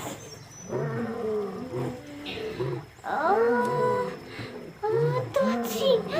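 A lion's loud roar, apparently voiced by a person imitating the animal, comes in several drawn-out, growling bursts with rising and falling pitch, close and forceful.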